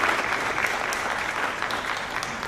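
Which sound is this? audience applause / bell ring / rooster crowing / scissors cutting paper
audience applause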